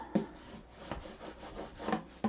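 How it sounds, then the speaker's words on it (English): A tool rubbed firmly across chipboard for a shadowbox frame, giving soft, close scraping strokes with a few sharper scuffs, quiet overall. "And then burnish that down."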